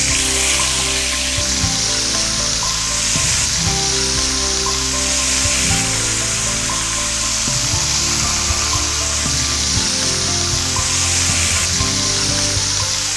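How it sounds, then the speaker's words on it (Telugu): Prawns frying fast in hot oil for a chilli prawn tikka, a loud, dense, steady sizzle running close and unbroken throughout, with occasional scraping and tool clatter from stirring. "సో ఇది చాలా ఫాస్ట్గా ఫ్రై అవుతున్నట్లుంది కదా"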